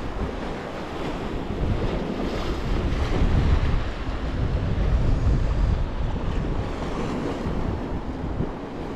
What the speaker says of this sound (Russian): Потому что ветер.